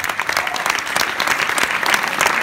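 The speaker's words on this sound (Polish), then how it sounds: "Drodzy Państwo, wielkie brawa, Maciej Szałek." Loud continuous audience applause at a concert venue, a thick wash of many hands clapping steadily in a full room for a couple of seconds.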